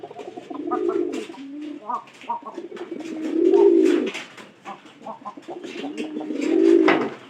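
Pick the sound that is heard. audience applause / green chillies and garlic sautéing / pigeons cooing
pigeons cooing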